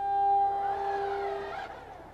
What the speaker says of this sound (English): That sound was the motor syncing back up.